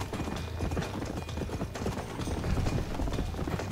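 Horse hooves gallop in steady, rapid clip-clop rhythm in the Red Dead Redemption video game, loud and continuous throughout over a low rumble of game sound.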